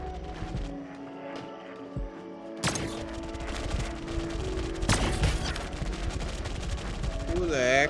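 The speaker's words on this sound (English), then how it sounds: "Who the heck is shooting me?" Gunfire in the video game High on Life, scattered shots and bursts breaking through a busy layer of game music and effects, with two sharp loud blasts standing out near the middle.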